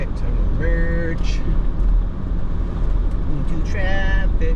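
Steady road traffic roar while merging onto a busy Houston highway, a continuous loud broadband rumble with passing vehicles and brief tonal car horn-like notes over it.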